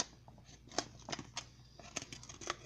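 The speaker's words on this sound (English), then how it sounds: "I'm using a razor blade, you want to cut the bottom off" Quiet, close snips and scrapes from a razor blade cutting the bottom off a plastic bottle, coming in irregular short bursts with a few sharper clicks.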